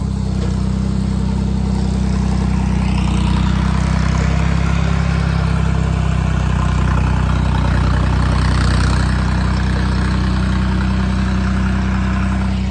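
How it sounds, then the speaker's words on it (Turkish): A truck engine idles on a muddy forest road, a loud, close and constant low rumble that holds steady throughout with no pauses or revving. No one talks. "Buraya da kamyon geliyor çıkamıyor."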